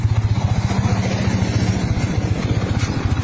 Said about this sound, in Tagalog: Ayan yung motor niya.